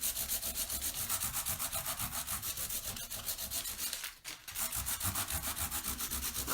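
A chalk sign board being sanded by hand, with steady rhythmic back-and-forth rubbing strokes, close and fairly loud, and a brief pause near the end before the strokes resume.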